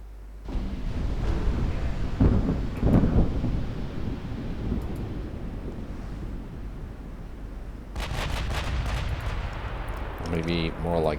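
Heavy naval guns firing in the warship game Ultimate Admiral Dreadnoughts, deep booming rumbles rolling over a sustained low roar, with a fresh burst of blasts late on.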